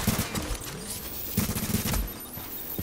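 Gunfire in a shooter video game rattles in rapid bursts, with clustered shots near the start and again in the middle over a continuous background of game noise.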